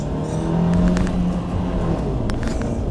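A 2018 Dacia Duster drives through city traffic, its engine a steady, dull drone with low road rumble throughout and a few brief higher clicks on top.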